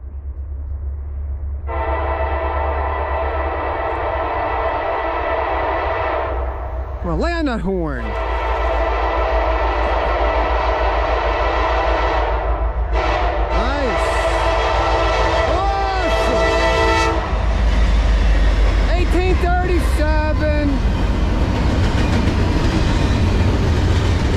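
A Norfolk Southern freight train passes close by on the Lehigh Line with a sustained horn blast, heavy rumbling and clattering wheels, and voices talking over it.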